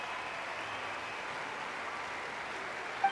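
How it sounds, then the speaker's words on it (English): A crowd applauds in a Genshin Impact cutscene, with steady sustained clapping at moderate distance and a brief louder swell at the end. "Let us send her off with a round of applause and show her the warmth and gratitude of our people."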